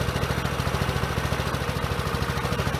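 Small engine running on wood gasifier gas during a test run, a steady close idle with a fast regular pulsing throb, moderately loud and alone without talk.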